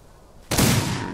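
Gunfire in the Old West video game Outlaws of the Old West, a sudden loud burst of overlapping shots that hits hard and then trails off into a sustained rumbling tail, with no talk.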